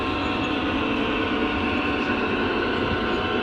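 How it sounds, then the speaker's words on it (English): Model train on a large layout rolling past with its built-in sound effects, a steady dense rumble and rail clatter that holds evenly loud and close throughout, with no talking. "Another train coming by. They all have sound effects too."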